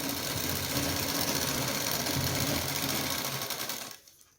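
A sewing machine runs a straight line of stitching along a salwar hem with a fast, even mechanical whirr and needle clatter, loud and close, then stops abruptly near the end.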